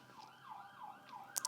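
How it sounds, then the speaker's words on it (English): An ambulance siren wails up and down in a steady repeating sweep, faint and distant, with no voices over it. "I hear an ambulance or something"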